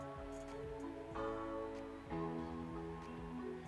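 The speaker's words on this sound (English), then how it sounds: "found a kind of a Rhodesy piano" Soft, mellow electric piano chords layered with piano, sustained and changing every second or so.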